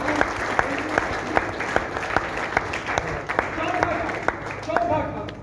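Audience at a gathering bursts into sustained applause, many hands clapping in a dense, steady wash with a few sharper claps standing out, while voices murmur underneath.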